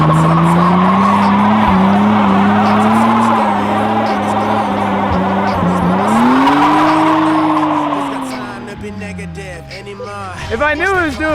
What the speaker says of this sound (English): So let's just burn rear tires off for no reason